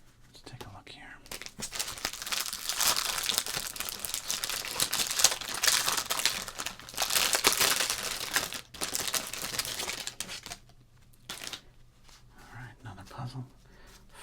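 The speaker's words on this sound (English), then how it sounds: "Thank you for the crinkles." Baseball card pack wrappers crinkle and rustle in close, dense bursts through most of the stretch, easing into quieter handling near the end, with soft whispering alongside.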